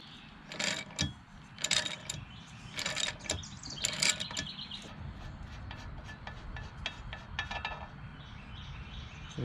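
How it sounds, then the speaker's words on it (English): A wrench loosens the prop nut on a Mercury 150hp FourStroke outboard, giving several sharp metallic ratcheting clicks in short bursts that then ease into quieter scraping and handling noises, close by with no talking. "I'm going to loosen the nut"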